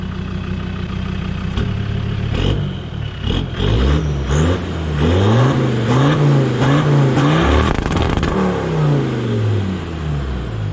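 A Land Rover Discovery 2 Td5 diesel engine, newly rebuilt and tuned, revs repeatedly in short bursts, pitch rising and falling with each blip of the throttle, close and fairly loud with no talking.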